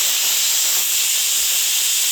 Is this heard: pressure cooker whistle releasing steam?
yes